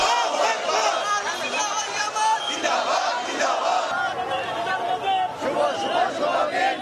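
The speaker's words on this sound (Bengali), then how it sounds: "নারায়ে রিসালাত ইয়া রাসূলুল্লাহ, আল্লাহু আকবার স্লোগানে মুখর চারদিক" A large crowd at an Eid-e-Miladunnabi procession in Dhaka chants religious slogans in loud, rhythmic unison, with overlapping voices and shouts filling the street throughout.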